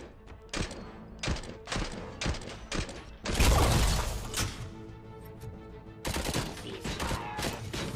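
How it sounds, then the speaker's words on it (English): Gunfire from a newly equipped gun in the video game Robocop: Rogue City, with rapid bursts of sharp repeated shots, a heavier blast or impact near the middle, and more bursts toward the end, fairly close and loud. "Let's test out this other gun very quickly."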